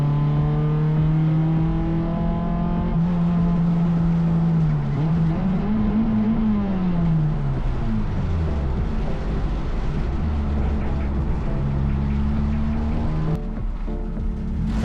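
A rebuilt race car at a Circuit Excel round, its engine droning loud and near as it rolls into parc ferme after the race, pitch dipping and rising with throttle while other cars idle around it.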